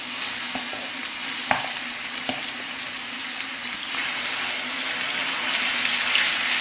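Chicken mince sizzles and fries in hot oil in a pan, a steady crackling hiss with a few sharp clinks of a spatula against the pan early on, growing slightly louder toward the end.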